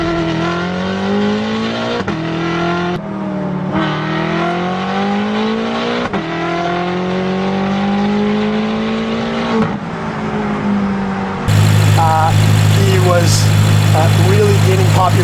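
A BMW M6 with a one-off destroked 4-liter S63 V8 runs and revs, its pitch climbing and dropping across several blips before settling into a loud steady idle near the end.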